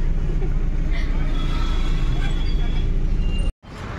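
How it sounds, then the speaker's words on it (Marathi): A heavy traffic jam on a road near a Hanuman temple at Changapur gives a dense, steady roar of engines from buses and cars close by, with people talking over it and a brief dropout near the end. "ट्रॅफिकच एवढा वाढलेला आहे ना."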